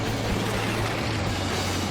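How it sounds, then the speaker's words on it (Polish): A car engine runs in The Long Drive video game, a steady low droning hum with a rough, noisy texture and no clear revving changes, continuing evenly throughout. "Ej, to jest silnik na krew chyba!"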